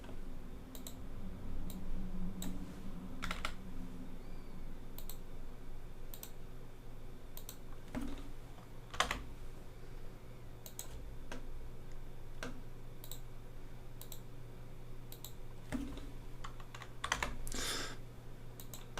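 Keyboard shortcuts are tapped on a computer keyboard in scattered bursts of crisp clicks. They sit over a faint steady hum, quiet and close, with no talking.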